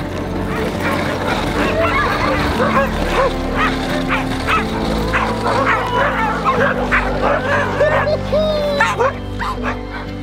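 A team of twelve sled dogs barks and yips excitedly in a Norwegian nature park, many overlapping barks and whines close by, continuous and loud.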